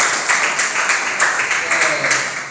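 Classroom students clap their hands together in a quick, even rhythm of short bursts, fairly close and lively, fading slightly at the end.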